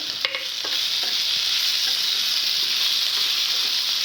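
Okra, tomato pieces and green chillies fry in a pan, giving a steady, loud, bright sizzle with a few brief stirring scrapes at the start and no voices.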